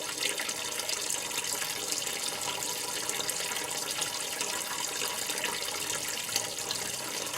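Antifreeze drains from the radiator and lower hose of a Cummins-powered Ford truck, producing a steady, close, continuous splashing pour of liquid with no break and no voices.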